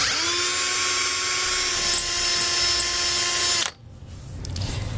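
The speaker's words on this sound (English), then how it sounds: "And with our pilot hole drilled," A power drill whines at high speed boring a pilot hole into a steel truck frame, a loud continuous tone that cuts off abruptly near the end, leaving quiet room noise.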